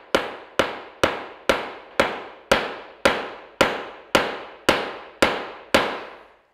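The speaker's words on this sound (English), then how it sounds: "I have a 3-pound mallet. We're gonna go ahead and hammer at the floor a little bit" A 3-pound mallet strikes a urethane cement floor about a dozen times at a steady, even pace, each blow a sharp thud with a short ringing decay.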